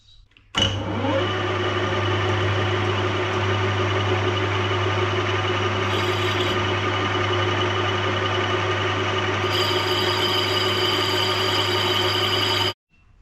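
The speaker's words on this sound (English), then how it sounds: "So now it is time to get them into the lathe and start machining them." A lathe machines cast barrel fins for a BSA Bantam race bike, giving a steady loud motor hum with a continuous whirring cutting tone that starts abruptly and stops near the end, with a brief brighter edge partway through.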